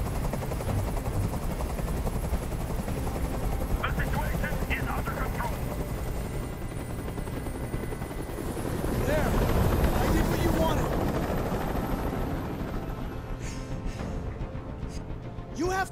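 A helicopter hovers in a video game (Detroit: Become Human) with a steady thumping rotor drone, swelling louder midway, under scattered distant sounds.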